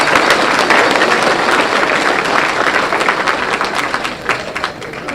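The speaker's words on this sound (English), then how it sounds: "We just need a big round of applause for Crown College." A big round of applause for Crown College rings out at the opening and closing ceremonies of a Top Wrench competition, loud crowd clapping with distinct individual claps popping through, gradually thinning toward the end.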